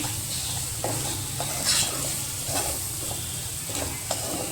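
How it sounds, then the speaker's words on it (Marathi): Ground spices stirred into hot oil in a pan while making pav bhaji, with a continuous close sizzle and a few light scraping strokes, moderately loud with no talk. "हे मसाले त्याच्यावर व्यवस्थित 10 सेकंद मिक्स करून घ्यायचे"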